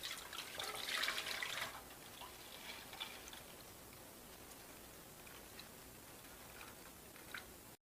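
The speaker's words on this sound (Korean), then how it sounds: "뜨거운 물 식힌 거 부어 줄게요." Cooled boiled water is poured into a bowl for chilled Korean soybean sprout soup, a soft splashing gush at first that settles into a faint, steady trickle.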